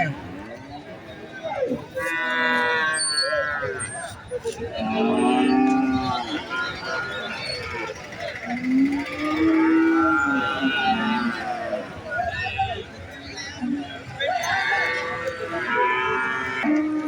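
At the Valliyoor cow market in Tirunelveli, native cattle moo repeatedly with long, drawn-out calls, some close and loud, amid crowd chatter and voices talking throughout.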